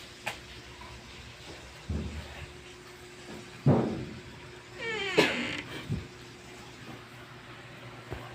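A cat meows in several short calls, one a rising, wavering yowl in the middle, heard fairly close over a steady background hiss with a few soft knocks.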